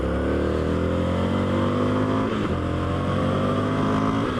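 An Indian FTR 1200 S motorcycle engine revs hard in sport mode and climbs in pitch as it accelerates, loud and close, with a brief dip before rising again.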